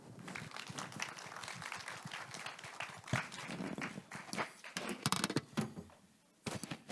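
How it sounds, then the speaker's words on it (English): Applause from a conference audience at an AI ethics event in Korea greets Father Paolo Benanti as he takes the stage, a dense steady clatter of many hands that swells and fades with brief gaps. "Please welcome him with a big round of applause."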